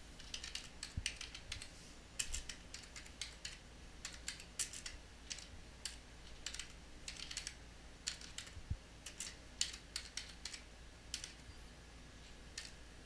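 Steady, quiet typing on a computer keyboard, with irregular bursts of key clicks and brief pauses, close up and without any talking.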